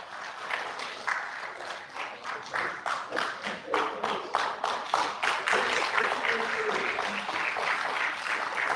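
Audience applause at a fundraising launch for a research foundation, a dense run of clapping that swells and stays strong for several seconds, with some crowd murmur underneath.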